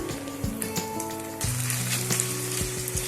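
Chopped garlic frying in a pan for Kolkata-style chicken chow mein, a steady close sizzle with occasional light clinks of a utensil, no talking.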